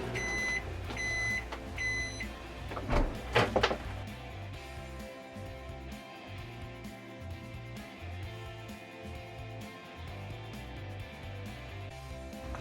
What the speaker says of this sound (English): Let's put it into microwave 30 seconds.